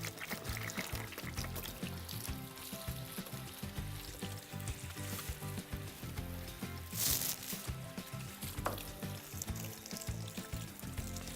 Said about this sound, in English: Just rinsing off all the salt water, diluting it.